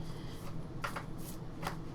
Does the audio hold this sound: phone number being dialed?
no